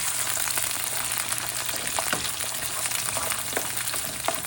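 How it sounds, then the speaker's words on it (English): Potatoes frying in oil in a pan over medium heat for aloo phalee, a steady dense sizzle with scattered sharp splatter pops throughout, close and continuous. "it's still kind of splattering, but it's okay"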